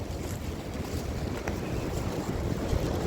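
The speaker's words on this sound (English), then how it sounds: "the wind is howling" Wind howls by a wooded creek as a steady, loud roar of gusting air and microphone buffeting that fills the whole stretch without a break.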